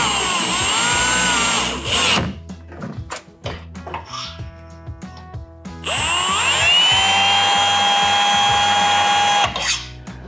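A power drill drives thread-forming screws to tighten bed rack extrusions on a Toyota Tundra, two loud sustained whirring bursts with rising pitch, separated by clanks and rattling of metal parts.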